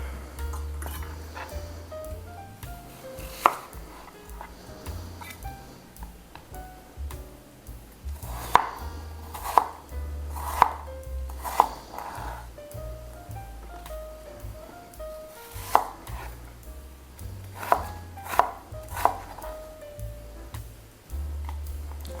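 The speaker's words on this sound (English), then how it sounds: "I'm just chopping these segments into matchstick sizes, the same as the carrots" A knife chops apple segments into matchsticks on a board, sharp distinct knocks arriving in short bursts of quick strokes separated by pauses, close and clear with no talking.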